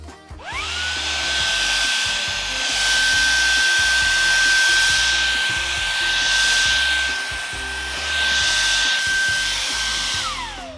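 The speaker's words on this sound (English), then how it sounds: "I'm gonna try to vacuum that up and see if we can smell the lemon." A vacuum cleaner sucks pampas grass off a floor indoors, starting up with a rising whine, holding a steady high-pitched drone for about ten seconds with slight swells, then winding down.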